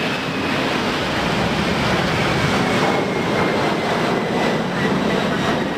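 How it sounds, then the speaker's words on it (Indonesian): A cargo airplane passes overhead, heard as a steady, loud roar of jet engine noise that holds constant with no breaks and no voices. "rupanya ada pesawat kargo"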